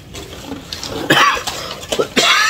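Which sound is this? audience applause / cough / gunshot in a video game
cough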